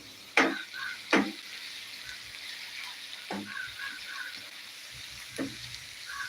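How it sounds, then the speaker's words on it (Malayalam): Onions frying in a pan for chicken sukka give a quiet, steady sizzle, broken by a few sharp scraping stirs of a spoon against the pan. "നമുക്ക് ഈ ഉള്ളി ഒന്ന് ആദ്യം ഒന്ന് വറ്റിച്ച് റെഡിയാക്കി എടുക്കണം"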